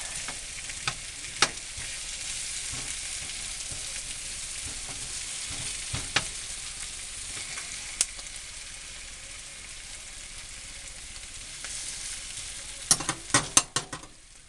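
Sweet potatoes frying in a pan, a continuous bright sizzle with occasional sharp pops and crackles, louder spatters near the end as they are pushed about, close and without talk.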